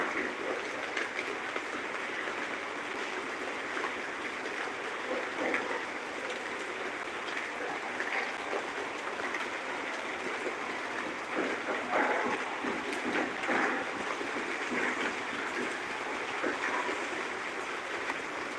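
Steady rain falls on a rainy day, a dense continuous hiss with scattered drips and patters, evenly loud throughout with no talk.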